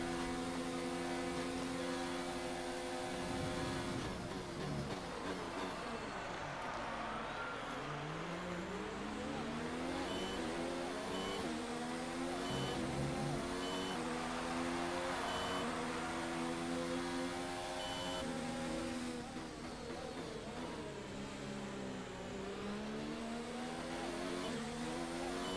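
A Ferrari Formula 1 car engine in the racing game F1 2019 screams steadily for the whole stretch, its pitch sweeping up and down through gear changes, loud and continuous.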